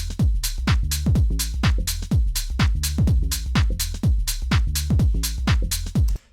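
A driving groove of percussion loops and a bass line plays in Ableton, with punchy kicks and sharp hits repeating in a steady, even rhythm, loud and close, with no voices.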